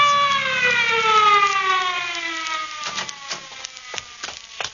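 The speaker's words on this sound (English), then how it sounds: "That's the ambulance." A radio drama ambulance siren wails with a slowly falling pitch, loud and close, followed by scattered knocks and clatter as it fades.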